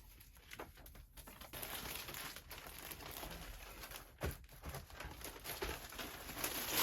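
Packing materials crinkling and rustling while orders are packaged in a studio, with irregular close crackles, taps and a few sharper rustles, fairly quiet and with no talking.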